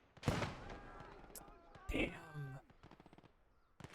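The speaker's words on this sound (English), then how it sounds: "Those rifle grenades." Rifle grenades going off in the WWII shooter Gates of Hell during a PvP match: two sharp, booming blasts about two seconds apart, followed by scattered distant shots, with a voice talking over the game.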